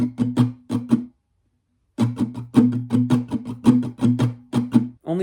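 Acoustic guitar strums the main pattern in quick, rhythmic down-and-up strokes, with a short pause after the first bar before the pattern resumes, loud and close with no voice.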